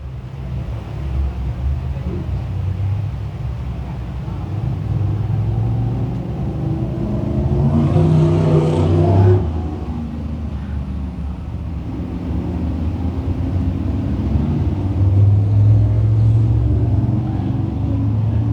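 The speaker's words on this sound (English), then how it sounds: "Crate Sprint Car racing for the Panther Frameworks Crate Sprint Cars" Crate sprint cars racing at Can Am Speedway, a steady loud engine roar filling the whole stretch with a swelling pass midway, no voices over it.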